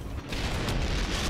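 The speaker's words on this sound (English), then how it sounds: "That is double explosion." A loud, sustained explosive roar with a rumbling low end, building after a brief dip and holding steady like a big blast, a double explosion in the video game Valiant Hearts: The Great War.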